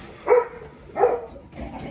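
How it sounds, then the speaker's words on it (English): A dog barks at birds outdoors, two clear barks about two-thirds of a second apart with a softer yip after, close but not very loud over a noisy background. "it's noisy out here, but Cabela's barking at birds"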